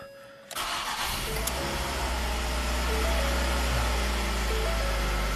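A Ford Escape engine, freshly swapped in, cranks briefly and then fires, settling into a steady, smooth idle that runs loud and close for the rest of the stretch, with no voices.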